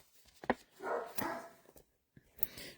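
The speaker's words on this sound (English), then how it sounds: "barking at the deer out there" A dog indoors barks in a few short, sharp bursts at deer outside, fairly close and loud, with brief pauses between barks and no talking.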